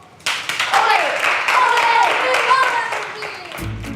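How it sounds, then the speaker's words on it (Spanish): Students in a classroom clap together after a short lesson on empathy, a dense patter of hand claps running under talking voices for several seconds before dying away. "Aplauso."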